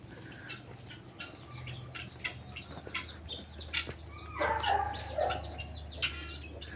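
Chickens inside a coop at a rural country property, with scattered clucks and squawks from several birds, some louder calls clustering near the end, over a low steady background hum.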